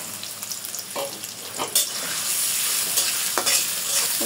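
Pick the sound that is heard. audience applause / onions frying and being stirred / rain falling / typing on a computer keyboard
onions frying and being stirred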